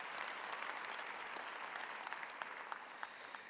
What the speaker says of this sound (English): can we give the Vice Chancellor a round of applause?